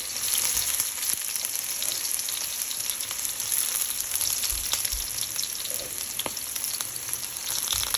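Crushed dried chili, chopped garlic and onion frying for dal bhuna make a dense, constant hiss of hot oil with scattered pops and a few low stirring thumps.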